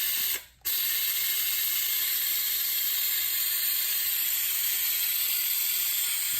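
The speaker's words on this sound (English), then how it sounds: "hook up my air to it, and as I squeeze the trigger and add vacuum to that back port" A pneumatic air tool applies vacuum to a Ford F-150 four-wheel-drive hub, giving a steady hissing whir of compressed air that runs almost unbroken for several seconds after a brief cut near the start.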